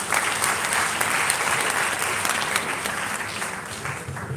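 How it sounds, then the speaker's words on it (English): Sustained audience applause with many hands clapping steadily and evenly for several seconds, fairly loud and close, fading slightly at the end; no one speaks over it. "Please let's give Mommy a round of applause again."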